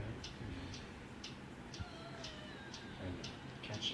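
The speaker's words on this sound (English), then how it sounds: "What is that mysterious ticking noise?" Faint, regular ticking repeats roughly every half second, close and crisp over a low background hiss, with a brief soft squeak near the end.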